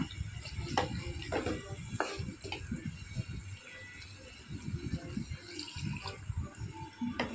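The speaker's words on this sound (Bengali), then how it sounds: "দুধটা দিয়ে কিছুক্ষণ ভালো করে আবার কষাবো" Milk is poured into a pan of duck curry and stirred, giving soft liquid splashes, wet stirring and scraping at close range with a faint sizzle underneath.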